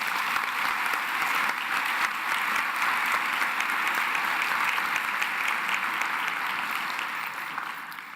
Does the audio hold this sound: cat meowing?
no